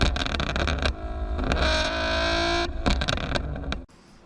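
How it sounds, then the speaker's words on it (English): A car running an E85 flame map tune roars through its exhaust with crackling pops and backfires, loud and close with a sustained raspy engine tone before cutting off abruptly. "my car backfires, pops, shoots flames, it does all that"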